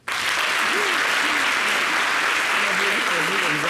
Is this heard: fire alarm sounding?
no